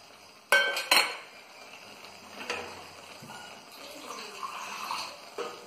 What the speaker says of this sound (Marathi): आता हा मसाला छान होईस्तोवर आपण याला फिरवू